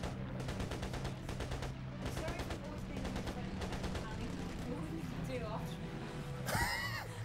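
Rapid bursts of gunfire in the video game Flying Tigers, repeated stuttering volleys under frequent nearby talking, ending with a louder burst and swooping effect.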